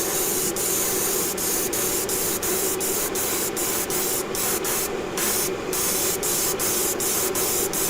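An airbrush sprays a coat of yacht varnish in a steady, loud, close hiss that runs the whole time, with brief regular dips in the spray.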